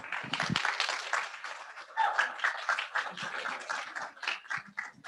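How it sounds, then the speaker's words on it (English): Graduates at a summer social work pinning ceremony clap and cheer together, a dense, steady wash of applause with scattered whoops running for several seconds. "make some noise for your support systems,"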